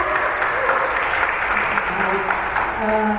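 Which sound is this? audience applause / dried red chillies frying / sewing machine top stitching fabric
audience applause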